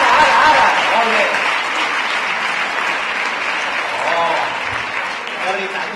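An audience at a library celebration applauds steadily, a dense, loud wash of clapping that holds for several seconds with voices faintly mixed in.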